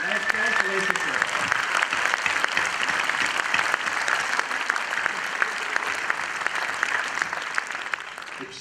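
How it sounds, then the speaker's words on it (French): An audience at a television film screening in a theatre applauds continuously, a dense steady clapping that stays loud for several seconds before easing slightly at the end. "Donc on peut applaudir la télévision suisse romande, la RTS et la SFR."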